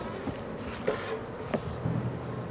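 Honey bees drone at an open hive in a low, continuous buzz, with a few louder passes as single bees fly close, and no voices.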